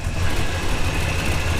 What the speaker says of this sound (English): Find and fix exhaust leak